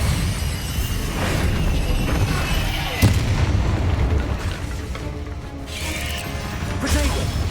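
A Bombarda explosion spell in Hogwarts Legacy, a sharp booming blast with crackling debris over a rumbling, mechanical game backdrop, followed by further impacts and rattling noise.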